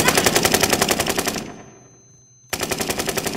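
Automatic gunfire in a video game, loud rapid bursts of a machine gun that cut off for about a second and then resume at full volume, with no talking.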